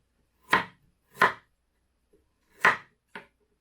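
Four crisp knife chops of fresh ginger being cut into thin slices on a board, each stroke distinct and close, spaced unevenly with quiet gaps between, no voices.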